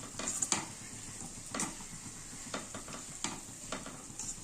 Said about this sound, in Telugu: నేను బీట్రూట్ ఫ్రై చేసి ఇందులో ఫ్లాక్స్ సీడ్స్ పౌడర్, అవిసె గింజల పొడిని వేసి బాగా కలుపుకుంటున్నాను